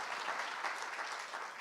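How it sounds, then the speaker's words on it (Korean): Brief, faint burst of audience clapping during a keynote lecture on democratic citizenship education, a steady patter of many hands heard from a distance. "이럴 땐 박수 안 칩니까?"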